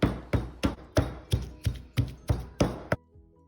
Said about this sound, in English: We'll begin by crushing our Thai pepper and garlic.